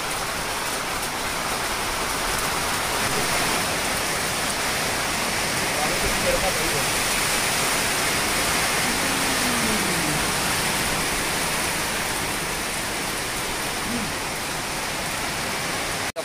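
Steady, dense rain roars without a break in foggy Nainital, India, a heavy downpour filling the whole stretch evenly.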